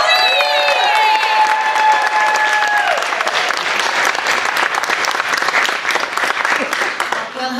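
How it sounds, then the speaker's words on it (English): A comedy-night audience bursts into loud, sustained applause for comedian Colleen, dense clapping filling the room throughout, with a stage voice briefly ringing out over the start. "Let's give Colleen a big round of applause."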